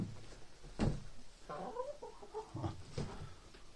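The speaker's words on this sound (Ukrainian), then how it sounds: "О, і кілька курочок." Chickens cluck nearby in short, uneven bursts, a few soft clucks and calls spread across a quiet background.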